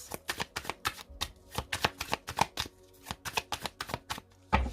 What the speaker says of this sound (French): On recommence par une coupe pour l'énergie tierce.